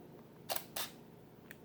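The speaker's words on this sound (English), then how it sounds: "if I push the shutter," A DSLR camera fires a single exposure through a Pixel TW-283 wireless shutter remote, giving two quick crisp mechanical clicks close together and a faint tick a moment later, in a quiet room.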